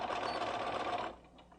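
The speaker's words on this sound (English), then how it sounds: "So I'm going to sew the 2 shoulder seams all in one continuous line" Sewing machine stitching two shoulder seams on knit fabric in one continuous line with half-inch seams, a steady close whirring run that stops abruptly partway through, leaving near silence.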